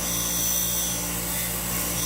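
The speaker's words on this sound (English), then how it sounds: "And I turn the bench grinder off." A bench grinder with a wire wheel spins steadily while wire-brushing a piston head from a Suzuki Savage LS650, giving a continuous, even whirring hum with a faint abrasive hiss, close and loud with no talk.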